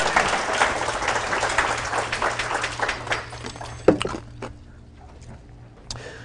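A Tea Party audience breaks into clapping that gradually thins out and dies away, leaving a quieter stretch with a few scattered claps and a low background hum.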